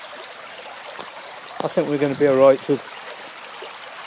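A flowing stream at a geocaching spot, a steady broadband rush of running water heard throughout, briefly overlaid by someone speaking near the middle.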